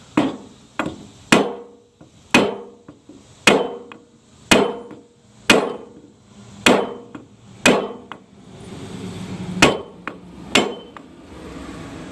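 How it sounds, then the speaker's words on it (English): Heavy hammer blows strike a part during an engine replacement on a 2016 Dodge Charger R/T 5.7L Hemi: about a dozen loud, sharp metallic whacks at a steady, roughly one-per-second pace, each ringing briefly, with no talking. "Alright, so we got the big hammer. I'm just hitting it this way because I got more room."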